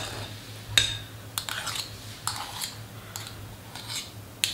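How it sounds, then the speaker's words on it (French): Two spoons scraping and tapping while shaping small heaps of duchess potato mixture, a series of short, fairly close metallic clinks and scrapes spaced irregularly over a quiet background. "On prend 2 cuillères et on vient former des petits tas"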